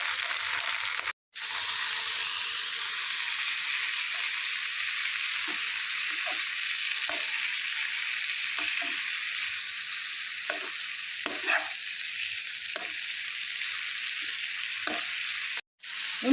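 Mint chutney sizzles and fries in a pan. It gives a steady, loud hiss that runs the whole time with no voices, broken by two brief cuts.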